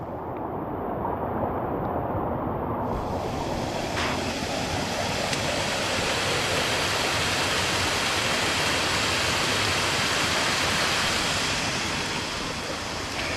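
Mountaineer Falls, a waterfall on the Appalachian Trail, roars as a steady, loud broadband rush of falling water, heard close and alone in rainy weather.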